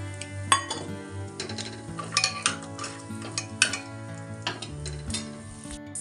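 Cashews and raisins fry in a pressure cooker, with spoon scrapes and clinks over a soft sizzle and a steady tonal hum in the background.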